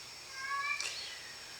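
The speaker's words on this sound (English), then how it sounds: "That's my cat, I apologize." A house cat gives a single short, rising meow indoors, fairly quiet and close, with no talking around it.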